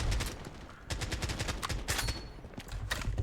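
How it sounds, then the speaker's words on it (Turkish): Rapid gunfire bursts from the battle royale shooter BloodStrike, loud and close, with several automatic volleys separated by brief pauses throughout. "Biri daha sıkıyor bana."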